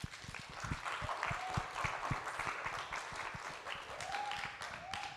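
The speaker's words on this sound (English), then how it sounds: "please give them a round of applause" A live audience breaks into sustained applause, a dense, steady patter of many hands clapping close by with no pauses across the whole stretch.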